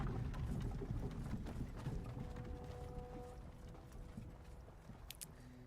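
Hoofbeats of a Palomino horse in Skyrim clop along steadily at close range, a continuous rhythmic trot that gradually fades slightly, with no talk over it.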